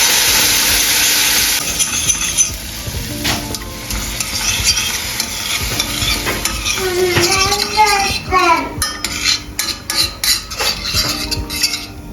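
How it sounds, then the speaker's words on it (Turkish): Hot meat broth poured gradually onto toasted semolina in a pan, giving a loud steady sizzle that eases into bubbling with spoon stirring and light clinks of cookware. "İrmiğim güzelce kavrulunca et suyumu ekliyorum."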